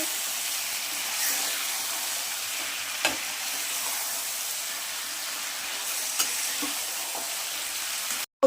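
Country chicken and potato curry is sautéed in a pan, giving a steady, hissing sizzle that stays even and close, with a few faint knocks from stirring.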